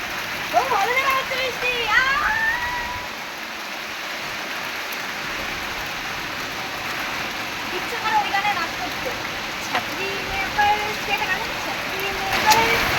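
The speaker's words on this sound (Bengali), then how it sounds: "আরে ঘরে জল ঢুকছে ঘরে জল ঢুকছে" Water pours into a house in a steady, rushing splash that runs unbroken throughout, with a brief dip partway, while people talk now and then over the flow.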